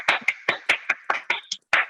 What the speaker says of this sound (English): Please, please, please feel free to unmute and join in the applause